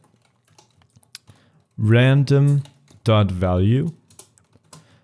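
Computer keyboard typing during a Unity game-scripting session, with soft scattered key clicks before and after a man's speech, which dominates the middle of the clip.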